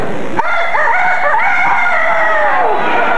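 A person on a theater stage imitates a rooster's crow with one long, loud, wavering call that rises and trails off, close to the listener.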